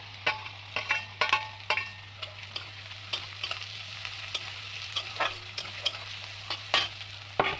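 Ginger and carrot stir-frying in raw ghee for fried rice, with repeated sharp scraping clicks of a spatula over a steady sizzle and a constant low hum, close and alone without talk.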